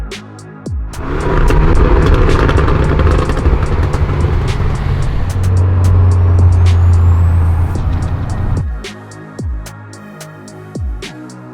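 Tuned Mitsubishi Evo X of about 340 wheel horsepower driving on the road, its engine rising to a loud sustained roar and then fading, with ticking and clicks around it.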